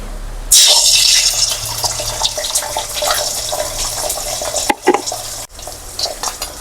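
A cracked egg drops into hot white oil in a wok and bursts into a loud, hissing sizzle that gradually settles, broken by a few clattering knocks near the end.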